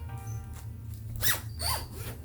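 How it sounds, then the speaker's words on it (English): Two quick zipper pulls on the back zipper of a cosplay dress, a bright rasping zip followed by a second shorter one, close up over a low steady hum. "there is a zipper on the back of the dress."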